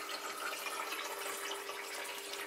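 Water runs steadily in an ebb and flow hydroponic system as the grow bed floods under a pump, a soft continuous trickle and rush with no voices.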